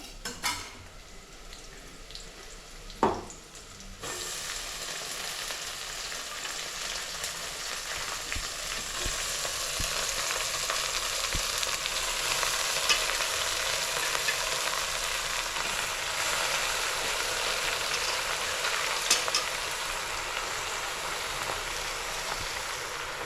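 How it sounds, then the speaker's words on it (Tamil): Onion and garlic sautéing in a pan, with greens then added: a steady, close frying sizzle that swells louder after a brief clatter of the leaves going in, continuing evenly with occasional stirring clinks. "வெங்காயம் பூண்டும் வதங்கிடுச்சு இப்போ வந்து கீரையை சேர்த்துக்கலாம்"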